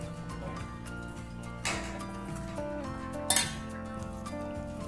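Cauliflower is tossed with turmeric and salt in a bowl, giving close clinks and scrapes of a utensil against the dish with a couple of sharper knocks.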